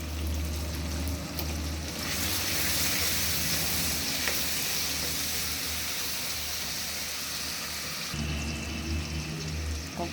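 Chopped tomato dropped into a hot pan of lentil dal, a loud steady sizzle and crackle of frying that swells for several seconds and then eases, with no voices.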